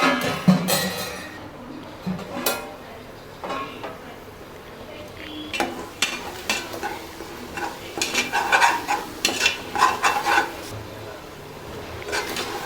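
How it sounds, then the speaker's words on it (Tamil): Tomatoes and ginger garlic paste being sautéed for home-style biryani: irregular clinks and scrapes of a spoon stirring in a metal pan, close and fairly loud, with clusters of quick clatter. "நல்லா வதங்கிடுச்சு தக்காளி, இஞ்சி பூண்டு பேஸ்ட்லாம்."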